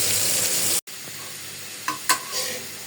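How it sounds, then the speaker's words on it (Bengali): Fish fries in a pan on a gas stove, giving a loud, steady sizzle. The sizzle cuts out briefly, then resumes more quietly, with a few scraping stirs of a utensil in the pan and no talking. "মাছ বাইজা"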